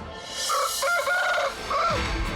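A rooster crows loudly and close by, one long drawn-out call followed by a second shorter crow.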